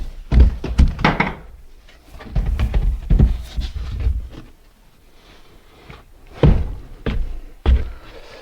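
A wooden shed door being shut, giving several dull thuds spread through the moment, close and fairly loud, separated by quieter rustling and handling noise.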